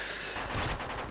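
A burst of rapid gunfire in Modern Warfare 3 infected-mode multiplayer, a dense, muffled crackle of shots in game audio lasting about a second.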